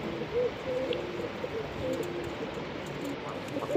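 Fancy breeder pigeons in a colony coo softly in low, rolling phrases, steady and continuous at a moderate distance with faint background noise and no talk.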